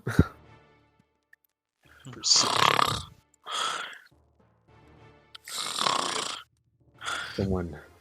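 A voice imitates loud, obnoxious snoring from someone asleep in a tent during a tabletop role-playing game. There are about five drawn-out, rasping snore bursts separated by brief quiet gaps, close to the microphone.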